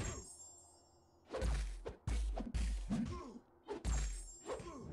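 A special attack in Marvel Contest of Champions lands as a string of loud, close punching thuds and whacks in several bursts, separated by brief quieter gaps.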